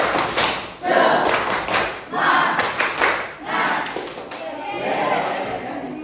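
A class in an Indonesian biology teaching-practice lesson does a rhythmic tepuk semangat clapping ice-breaker. Bursts of patterned group clapping come in waves, with voices chanting along between and over the claps.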